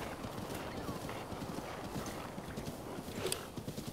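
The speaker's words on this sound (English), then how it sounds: "How's this horse with the turning?" Rapid, steady clip-clop of horse hooves galloping across open ground in the video game Breath of the Wild, continuous and fairly close, with a faint whinny and a busy game soundscape underneath.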